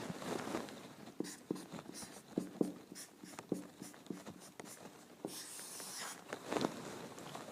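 A marker squeaks in short, looping strokes across paper while drawing circles, close and quiet, with uneven pauses between strokes and a brief rustle near the end.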